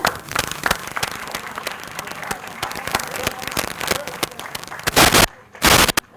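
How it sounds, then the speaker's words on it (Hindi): An audience at an annual storytelling and arts festival claps loudly, a dense patter of applause that builds into a couple of sharp, louder bursts near the end. "एक बार जोरदार तालियां हो जाएं।"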